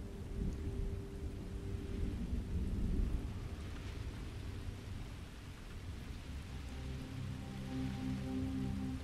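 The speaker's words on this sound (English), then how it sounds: "Well, it's raining now, Sam." Rain and thunder in the video game Starfield: a continuous rain hiss with deep rolling thunder rumbling through, fairly faint and steady, with no speech.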